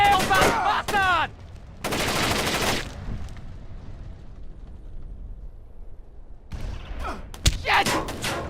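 Gunfire in the stealth game Splinter Cell Chaos Theory: sharp bursts of automatic fire and single loud shots, separated by quieter stretches, with shouting voices over the action.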